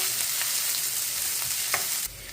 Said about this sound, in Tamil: பச்சை மிளகாயையும் போட்டுக்கொள்ளுறேன் போட்டுட்டு நல்லா வதக்கி கொள்ளுவோம்